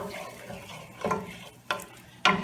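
Bacon and sausage frying in a pan, partly frozen, with a low steady sizzle broken by a few sharper crackles and scrapes of stirring.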